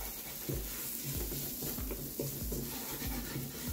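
Spices tipped into browned onions in a pan while cooking aloo gobi and dal: a soft, steady sizzle with a faint hiss and light scraping stirs recurring in a loose rhythm, quiet and close.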